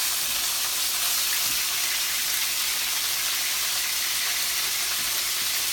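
Brussels sprouts and steak sizzling in a frying pan, a steady bright hiss of frying fat that runs unbroken and fairly close throughout, with no talking.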